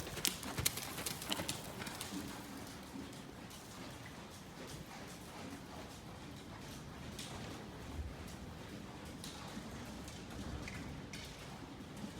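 A horse trotting on an arena surface during a riding lesson, its steady clip-clop hoofbeats running throughout at moderate distance, with occasional faint voice in the background.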